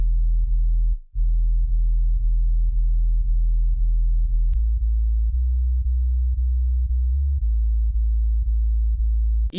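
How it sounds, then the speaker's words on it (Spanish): Distorted, filtered synth bass line built in FL Studio for a remake of a reggaeton track, a loud, smooth low tone stepping through repeated notes in a steady rhythm, playing alone. "yo en el mixer le añadí una distorsión con el efector, que también es nativo, al igual que filtré este bajo"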